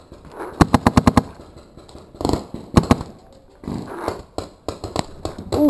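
Paintball guns firing during an outdoor paintball elimination match: quick bursts of sharp pops, a rapid string of about six shots first, then scattered shots and short volleys, fairly close and loud.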